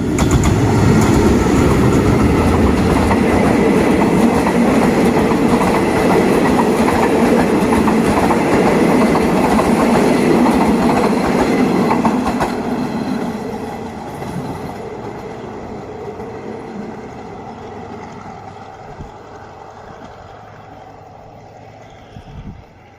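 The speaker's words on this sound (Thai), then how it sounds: "ก็ผ่านไปเรียบร้อยนะครับสำหรับขบวนรถไฟในยามเช้าวันนี้นะครับ" A train rumbles loudly past on a railway at Ban Khu Bua, Thailand, in the morning, bound for Bangkok, with rhythmic clattering wheels, then the noise fades away into the distance over the last several seconds.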